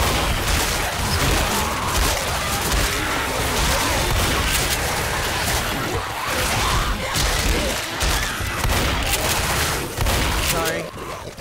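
Dense, chaotic gunfire from the zombie shooter game Left 4 Dead, continuous bursts and thuds filling the whole stretch at steady loudness, with speech mixed in.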